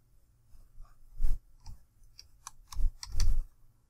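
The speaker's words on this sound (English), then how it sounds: "My ergonomic keyboard never leaves me bored." Keys clack on an ergonomic computer keyboard during Minecraft play on a PC, a quiet, uneven run of close clicks and taps with a few heavier strokes bunched near the end.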